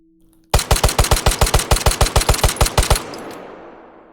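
Rapid burst of about fourteen evenly spaced gunshots from a ModulGlock race gun built on Glock 17 magazines in a video game, loud and sharp, ending abruptly with a short decaying tail.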